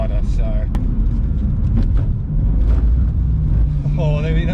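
A BMW M2 CS on Cup 2 tyres rumbles around a wet track on a sighting lap, a steady low engine drone running throughout with someone talking over it.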